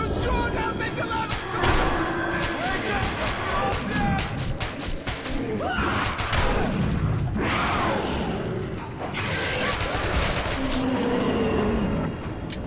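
Rapid gunfire and bursts in the video game Metro 2033 Redux, loud and nearly continuous for the whole stretch, mixed with frantic shouting voices.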